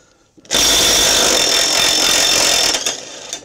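A power driver loosens a nut on a Craftsman riding mower's pulley shaft, giving a loud, near, steady whirring burst of about two seconds that tapers off, with no talk.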